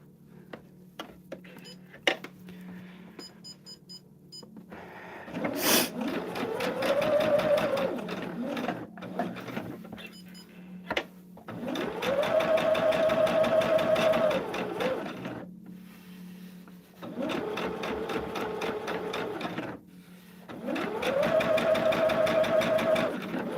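A sewing machine bastes stitches across a quilted dahlia table topper, running in four steady whirring bursts of several seconds each, separated by short quiet pauses and close by.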